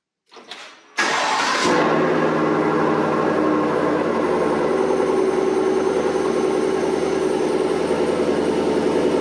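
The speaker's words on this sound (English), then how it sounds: "let's do a cold start in the garage" A 2021 GMC Sierra AT4 6.2L pickup with a Borla S-Type exhaust cold-starts in a garage: it cranks briefly, catches and roars to life, then settles into a loud, steady rumbling idle with a throaty exhaust, close by.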